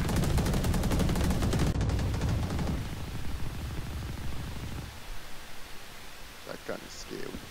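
Gunfire from the video game Valorant, a loud dense burst of rapid shots for the first few seconds that drops off, followed by quieter scattered game sounds and brief bits of activity.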